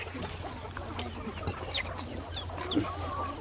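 Chickens cluck in short, scattered calls over a low background hum, a few birds close by, on a free-range village poultry farm in Maval, Pune.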